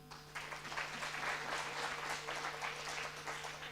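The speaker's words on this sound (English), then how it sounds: "I think we should give them a clap." Clapping from the audience at a Kenyan investment learning event, a dense, even patter of many hands heard fairly faint over a steady electrical hum, with no talking.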